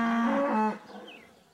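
A single cow moos on grassland, a loud, close, sustained low call that cuts off sharply and fades into quiet open-air ambience.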